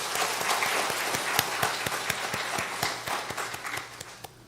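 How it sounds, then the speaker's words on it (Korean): Church congregation clapping during a Sunday worship service, a steady wash of many hands with some distinct individual claps standing out, fading gradually toward the end. "잘 다녀오라고 박수하시겠습니다"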